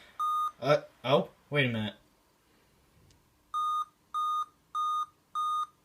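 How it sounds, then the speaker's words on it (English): A laptop being converted into a portable desktop emits a steady series of four evenly spaced electronic beeps, each a short pure tone, following a brief spoken remark. "Ah, it's beeping."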